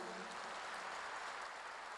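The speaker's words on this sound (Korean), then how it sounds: "박수로 하세요" A church congregation applauds during a worship service. The clapping forms a steady, even wash that sounds faint and distant and continues for the whole span without pause.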